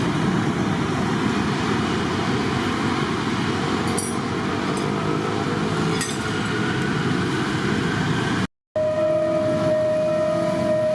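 Freight train number 777 rolls through a residential community in a loud continuous rumble of wheels and wagons, with a brief dropout and then a steady tone near the end, no voices.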